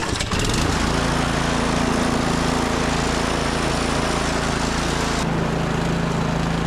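A Toro PowerMax 828 snowblower engine starts on a single pull and runs steadily, a loud continuous small-engine drone with a constant throb that holds throughout.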